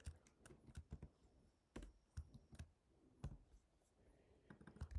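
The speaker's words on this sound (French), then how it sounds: "J'espère que mon clavier ne dérange pas." Someone types on a computer keyboard during a coding session, giving irregular bursts of sharp key clicks with short pauses, fairly close and moderately loud, with no talking over it.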